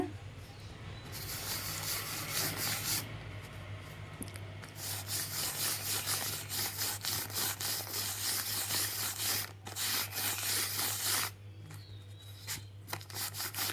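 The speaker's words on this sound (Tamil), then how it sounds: "இந்த ட்ரேசிங் பவுடர் போகிற மாதிரி தேய்க்கணும்." Tracing powder mixed with kerosene being rubbed through the holes of a paper pattern for aari embroidery, a continuous close scrubbing rasp in long strokes with short breaks, over a steady low hum.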